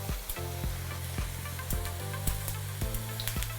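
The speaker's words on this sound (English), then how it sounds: "I like to use a sprayer so that I don't use so much." Sunflower oil spritzed from a hand sprayer into a pan while cooking pasta: a series of short sharp spray pumps about every half second over a steady low sizzle.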